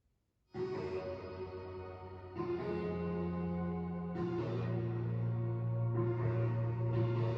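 A gritty, distorted synth sound layered over a sustained pad, with the notes shifting every couple of seconds and no voices.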